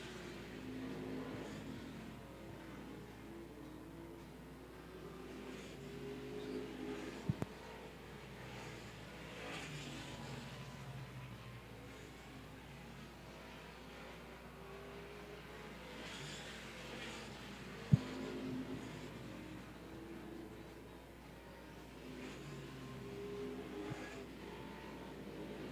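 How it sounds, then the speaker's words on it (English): Street stock race cars circling a 3/8-mile high-banked oval, their engines blending into a faint, distant drone that swells and fades as the cars pass, with a couple of sharp clicks breaking through. "Cars spread out all over this 3/8 mile high bank track"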